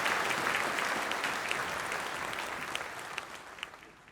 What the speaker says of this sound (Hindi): ताली बजा के आदेश दीजिए